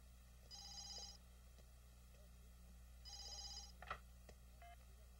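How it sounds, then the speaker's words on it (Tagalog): A telephone rings twice in an indoor scene of a Filipino film, two clear electronic trilling bursts separated by a pause, fairly faint, with small knocks and movement noises after the second ring. "Hoy, yung telepono, oh."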